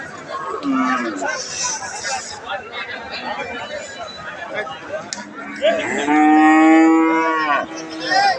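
A Holstein Friesian heifer calf at a busy cattle market in Ambari gives a short moo and then a long, loud, drawn-out bellow close by, while people chatter and bargain in the background.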